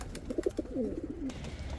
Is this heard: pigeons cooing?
yes